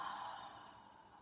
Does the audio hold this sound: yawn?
yes